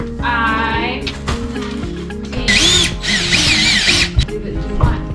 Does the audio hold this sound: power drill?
yes